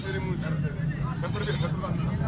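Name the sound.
goat bleating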